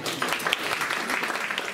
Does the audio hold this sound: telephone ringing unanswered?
no